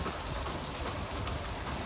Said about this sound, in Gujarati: ભાઈ, વરસાદ હજી ચાલુ જ છે હો.